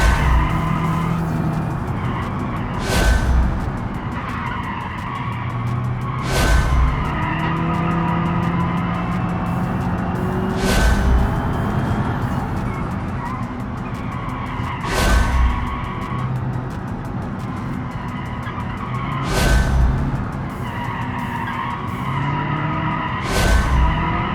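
Car tires squealing and skidding in BeamNG during a sloppy career-mode race run, with a steady engine drone and repeated sharp screeches every few seconds, loud and close, no voices.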